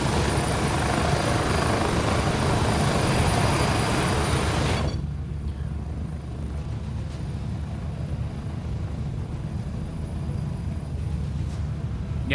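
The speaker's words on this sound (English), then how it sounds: "I'm scared the chopper's gonna land on me." A helicopter in the video game Gray Zone Warfare thrums loudly and continuously with rapid rotor chop, its bright high whine cutting off partway through while the low beating rotor drone carries on.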